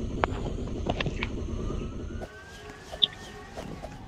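A wailing ambulance siren sounds in a video game. A loud engine rumble shares the first half, then the siren sweeps on alone and clearer, with a sharp tone near the end.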